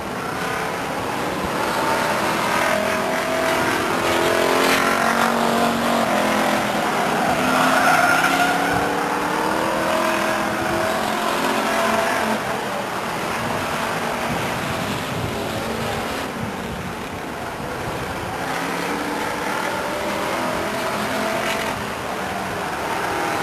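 Race cars roar around a speedway oval in a 1999 night race at Stockton 99 Speedway, a dense, continuous wash of engine noise with tire squeal, steady and loud throughout with no clear talk.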